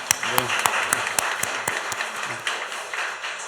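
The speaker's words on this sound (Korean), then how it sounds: "하나님께 우리 할렐루야 감사의 박수를 한번 돌려보았으면 좋겠습니다" Church congregation clapping during a Wednesday evening worship service, a moderate burst of applause with a few sharp, distinct claps standing out near the front and faint voices mixed in.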